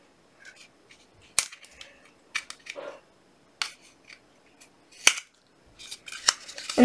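Scissors cutting a straw reed for a homemade reed instrument, a series of sharp, crisp snips and clicks scattered irregularly with quiet handling rustles between, close up.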